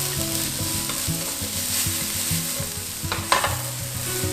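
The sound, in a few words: stir-frying dried tofu, ginger, enoki and shiitake mushrooms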